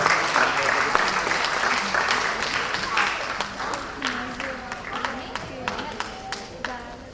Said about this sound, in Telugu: మరి వారిని మీ చప్పట్లతో వేదికపైకి రావాల్సిందిగా ఆహ్వానిస్తున్నాను